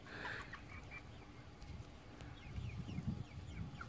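Chickens feeding on leftover spicy fish stew cluck softly and intermittently in brief, faint calls, with light scuffling and pecking noises growing toward the end; the sounds are quiet and somewhat distant.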